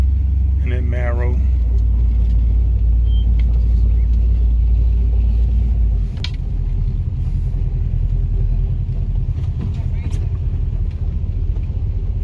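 Cars lined up and pulling around, one by one, to be washed at a car show, a Camaro among them, with a loud low engine rumble that drops partway through while people talk over it.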